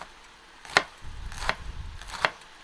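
A knife chops food on a wooden board during a cooking demonstration, the blade guided against the knuckle: three crisp, evenly spaced chops with soft handling noise between them, fairly quiet and close.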